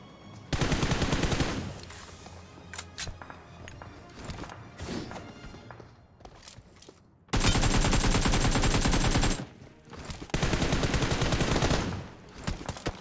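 Rapid automatic gunfire in a battle royale shooter, heavy bursts and sustained sprays of shots with impacts and crashes, loud and close, with brief lulls between volleys.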